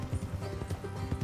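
Horse hooves clip-clop in the video game Red Dead Redemption 2, a quick close run of hoofbeats over a low rumble, with faint in-game sound around them.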